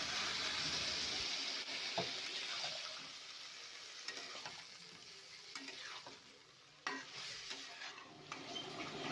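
Greens frying in a wok with water added, a soft hiss and bubbling under occasional stirring scrapes, fading quieter midway before picking up again.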